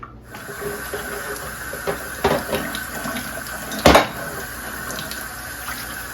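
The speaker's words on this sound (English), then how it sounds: "poured out the water" Water being poured out of a plant propagation container, a soft steady trickle with a few clinks and one sharp knock of the container partway through.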